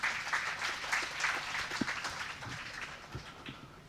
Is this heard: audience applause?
yes